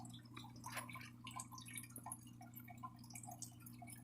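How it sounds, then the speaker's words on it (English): Aquarium bubbles driven by canister filter flow in a tank with a CO2 reactor make a soft, continuous patter of tiny pops and drips, faint and steady over a low hum. "that is the only thing creating these bubbles is the flow rate from my canister filter"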